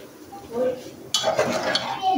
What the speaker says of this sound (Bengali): এই যে পানিটা দিয়ে নিলাম